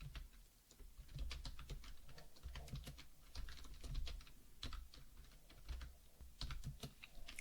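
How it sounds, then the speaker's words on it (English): Code being typed on a computer keyboard, a quiet, close, continuous patter of key clicks at an uneven rhythm with slightly louder thocks now and then, and no talking. "we can type some code here"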